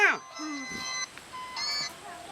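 An electronic phone ringtone plays a tonal melody in two short bursts, fairly close, after a brief squeaky sound at the start.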